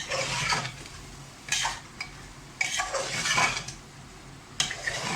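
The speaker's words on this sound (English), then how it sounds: "And now I'll bhuno the masala." Masala for a home-style chicken pulao is stirred and fried in a pan, with a spatula scraping and clattering against the metal in bursts over a low, steady sizzle, close and fairly quiet.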